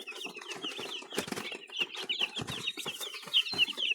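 Chicks and chickens on a farm fill the air with rapid high-pitched peeping and soft clucking, a busy, close chorus with occasional wing flutters.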